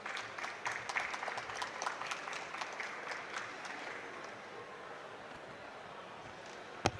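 Applause from an audience at a climate and air pollution assessment launch event, quiet and distant with scattered individual claps, thinning out and fading toward the end.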